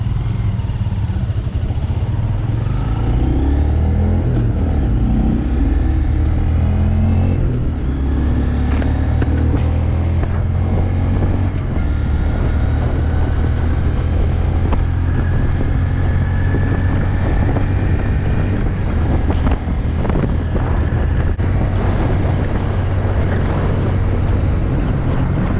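Honda Grom motorcycle engine on its first ride, a continuous close engine drone mixed with heavy wind buffeting on the microphone, steady for about twenty-five seconds without speech.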